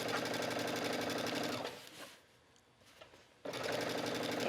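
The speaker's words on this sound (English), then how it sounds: "serging." A serger overlock machine runs steadily while stitching the edge of skirt fabric, a loud continuous mechanical whir that pauses for about two seconds before starting again.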